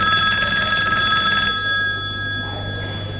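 A telephone rings on a stage during a comedy play, a loud electronic trilling bell that sounds in a steady repeating buzz and then fades out midway.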